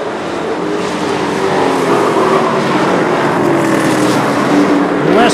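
Short-track race cars roar past in a Super Short Track Racing Series event, a loud continuous engine snarl with rising and falling passes close by and no talk.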